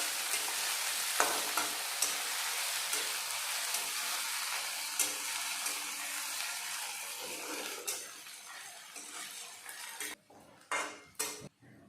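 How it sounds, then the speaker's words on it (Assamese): Ginger-garlic paste frying with onion in a pot for a pork dish, a bright continuous sizzle with repeated spoon scrapes and clinks against the metal, the sizzle dying down near the end. "এতিয়া আদা নহৰুখিনি কেঁচা গোন্ধটো যোৱালৈকে ভাজি ল'ম।"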